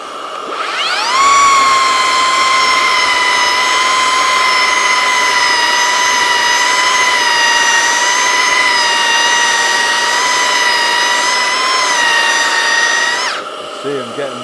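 A Milwaukee 2832-20 M18 FUEL 3x18 inch cordless belt sander, connected to a Milwaukee cordless vacuum, spins up and runs at a steady, high whine for about twelve seconds, then winds down abruptly.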